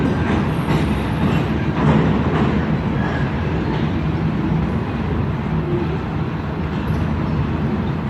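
A heavy CSX freight train pulling out after loading cargo rumbles steadily with continuous low roaring and clattering wagons, loud and close, no voices.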